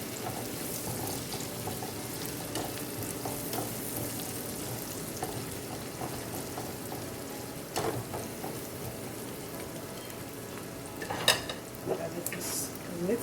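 Green onion and thyme are stirred in a pan alongside shrimp marinara cooking, with a soft continuous sizzle and occasional utensil scrapes and clinks, fairly quiet throughout.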